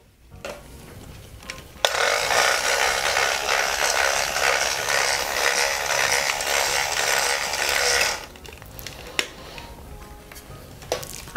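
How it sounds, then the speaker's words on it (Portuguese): A Happy House toy blender runs with a loud, steady buzzing whir for about six seconds, preceded and followed by faint clicks and handling noises. "o liquidificador,"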